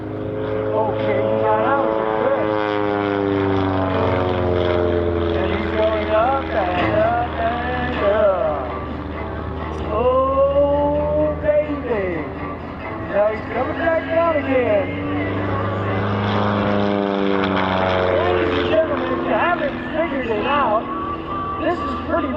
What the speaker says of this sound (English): doing aerobatics with a T-clip, the clipped wing tailorcraft